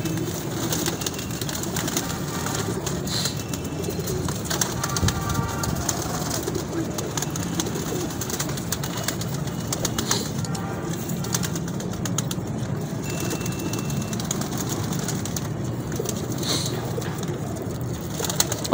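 Pigeons coo steadily and close by, soft throaty calls repeating over a continuous background murmur, with occasional wing flaps.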